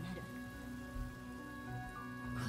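Continuous rainfall in Honkai: Star Rail patters across surfaces as a broad, even wash, with faint musical tones and a soft low thump partway through, and no clear speech.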